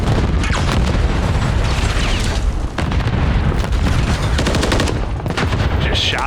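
Long-range gunfire in a Call of Duty match, rapid bursts of loud shots rattling almost without pause alongside heavy booms and mechanical clatter, sustained and dense from start to finish.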